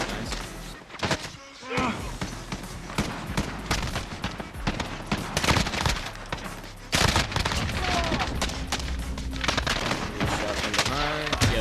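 Rapid bursts of automatic gunfire and single shots in the Call of Duty Warzone video game, dense and loud, with thuds and impacts mixed in and a player talking over the action.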